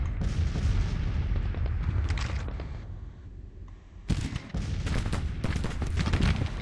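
Gunfire exchange in Grand Tactician: The Civil War, a dense rolling volley of musket and artillery shots, loud and continuous with a brief lull before firing resumes.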